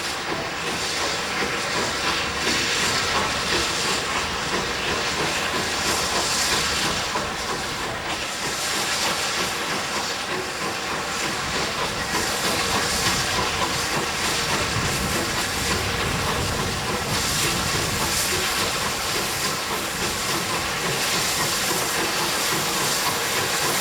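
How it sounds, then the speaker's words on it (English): Rebuilt West Country Pacific steam locomotive Heartland eases away from a station with a midweek passenger train bound for Pickering, a steady loud hiss of steam blended with rolling, clattering train noise throughout. "Rebuilt West Country Pacific Heartland eases cautiously away under newly installed signalling with a"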